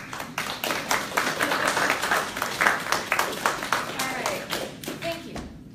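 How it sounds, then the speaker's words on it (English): A college lecture audience claps in a lively round of applause, close and dense with distinct hand claps, fading and thinning out just before the end. "I want to give you guys a round of applause"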